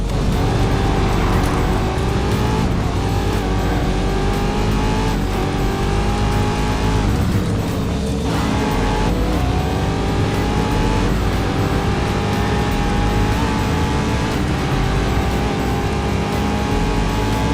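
Race cars in the video game Race Driver: GRID, loud continuous engine roar with shifting pitch as revs climb and drop, brief tire noise and passing cars, no talk.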